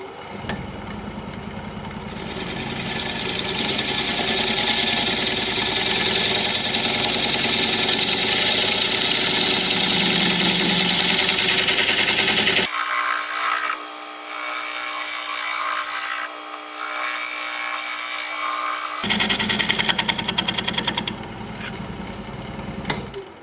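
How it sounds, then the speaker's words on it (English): A scraper with a fresh burr shears California olive wood spinning on a lathe: a steady, loud rasping hiss over motor hum for about thirteen seconds, a brief easing where the lathe drones alone, then the scraping returns. "I'm going to put a fresh burr on my scraper and we'll scrape."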